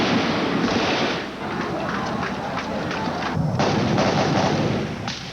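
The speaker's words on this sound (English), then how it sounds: "rebels and government troops fought it out in several key sections of the city, sniping oftentimes almost at random." Gunfire echoes through city streets as rebels and government troops clash during a coup attempt, with dense, continuous cracks and thuds in a noisy, chaotic wash.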